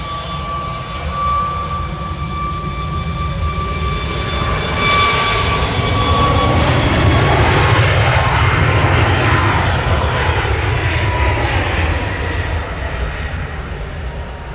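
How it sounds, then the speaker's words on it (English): A Ryanair Boeing 737 MAX 8 jet departs for Berlin from Manchester Airport, its engines roaring loud and steady and swelling slightly as it passes, heard alone with no talk. "Ryanair 737 MAX 8 to Berlin."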